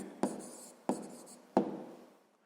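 A pen writes down the answer to a sixth-grade math exercise, three short scratchy strokes at even intervals, close and fairly quiet with no talking.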